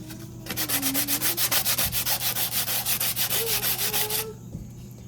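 Sandpaper rubs back and forth over a wooden kitchen spoon in a fast, regular series of about twenty scratchy strokes, close and clear, ending abruptly into quiet.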